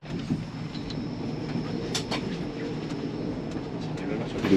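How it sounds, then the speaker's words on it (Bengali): An overnight sleeper train between Bangkok and Chiang Mai rolls on with a low, steady rumble and faint rhythmic rattling, a few sharper clicks rising over the constant interior drone. "বুক চিরে চলে যাচ্ছে ট্রেন।"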